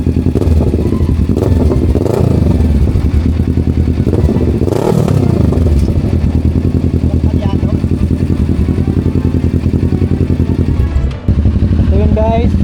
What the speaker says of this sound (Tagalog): Ang gamit namin ng motor, Kawasaki ER6F, J650, saka Ninja 400.